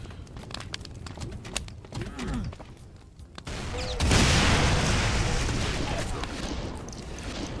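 Rocket launcher fire in Factorio, a few muffled booms and thumps followed by a sustained roaring blast that fills the second half, with a player talking over the action.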